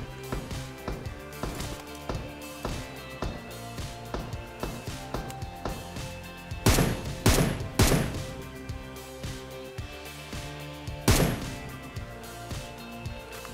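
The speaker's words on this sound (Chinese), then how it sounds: "远处听到博火嘅声音" Distant gunfire in the battle-royale game PUBG Mobile, a series of sharp repeated cracks and thumps at a steady rhythm with a few louder clustered bursts, heard without talk.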